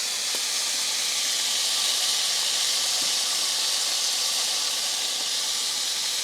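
Smash burger patties sizzling in a hot pan give off a steady, even hiss that continues without a break, with only faint scattered ticks and no voices.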